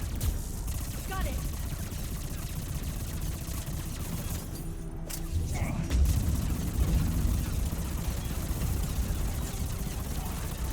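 SMG in Mass Effect 3 held on continuous fire, a rapid dense rattle of shots running steadily through a noisy combat scene, with voices talking over it.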